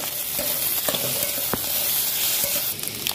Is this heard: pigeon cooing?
no